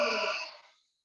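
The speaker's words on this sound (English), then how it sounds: "I am creating the sound of breathing in order to notice for you." A deliberately loud, breathy inhalation during a yoga posture with both arms stretched overhead, close and alone, lasting under a second and fading out smoothly.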